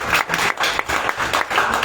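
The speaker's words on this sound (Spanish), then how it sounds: "Ya que usted quería dar aplauso, vamos a dárselo al Señor." A church congregation claps together for a short stretch, a dense, pulsing patter of many hands in a reverberant room.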